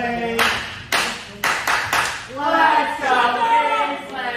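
Wrestling crowd at an AWF Grudge Match clapping in support of Kingsley, a series of loud, sharp claps in rhythmic bursts, then cheering and crowd voices.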